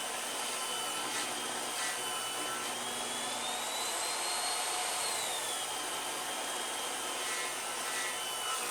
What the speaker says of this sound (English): the saw blade is getting all the way through the material